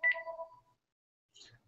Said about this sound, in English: my phone is ringing here